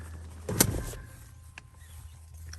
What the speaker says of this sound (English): So I'll go ahead and open the back and show you those.